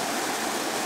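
Goomoolahra Falls at Springbrook, Australia, heard from close beside the lower falls: a loud, dense, continuous rush of falling water with no other sounds.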